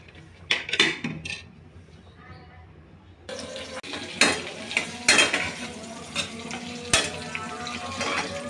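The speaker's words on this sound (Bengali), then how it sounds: "আলুগুলো আমি বেজে নিচ্ছি" Potatoes fry in a pan during beef biryani cooking, a steady sizzle that swells louder after a quieter start, broken by scraping stirs and clinks of utensil against pot.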